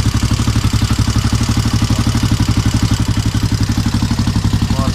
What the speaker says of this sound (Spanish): Después de mucho tiempo, muchas horas de trabajo nuevamente, volvemos a tener tu moto en marcha.